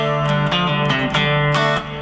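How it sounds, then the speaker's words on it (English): Guitar playing the main riff of a blues in D, several plucked notes and short strummed chords in a steady rhythm with ringing sustain, close and clear with no talking. "Back to the main riff."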